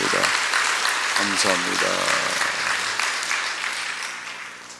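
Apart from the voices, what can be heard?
church congregation applause for flower arrangers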